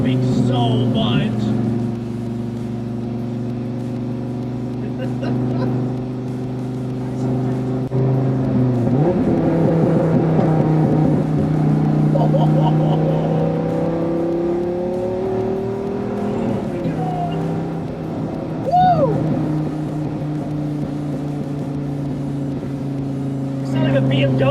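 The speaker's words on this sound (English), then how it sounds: "This car is popping so much" A Dodge Viper engine drones loudly while driving, revving and easing off with shifting pitch and scattered sharp exhaust pops and crackles, heard up close from inside the car.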